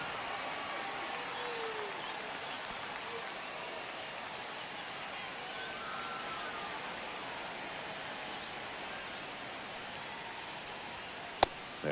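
Steady crowd murmur and roar fills a baseball stadium during a one-run game in the ninth inning of a Mariners versus Brewers matchup, a continuous wash of noise with a sharp crack near the end.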